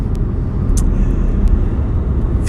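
A steady, loud low rumble of a car driving along a road, heard from inside the moving vehicle, with a few faint ticks above the constant drone.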